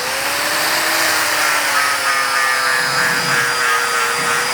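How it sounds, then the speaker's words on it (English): A power grinder works a spot on a metal part in a loud, steady, close whine with a sustained high tone and rough abrasive hiss, running continuously throughout without speech. "So I'll start off by grinding."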